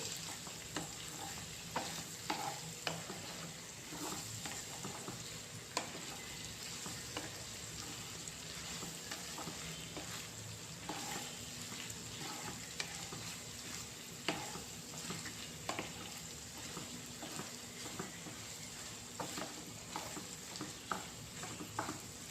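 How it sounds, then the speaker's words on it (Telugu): Ivy gourd stir-fried with crushed garlic and ginger in a pan, a steady close sizzle with frequent scraping stirs and small ticks recurring throughout, quiet overall and without speech. "ఇవన్నీ బాగా వేసేసుకొని బాగా యాగనివ్వాలి ఫ్రైకి. అన్నీ బాగా కలుపుకోవాలి."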